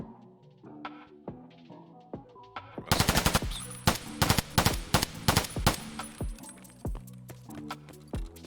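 An MK47 rifle fires in a video game, scattered single shots at first, then a loud, rapid burst of sharp cracks, easing back to spaced single shots with faint mechanical clinks between.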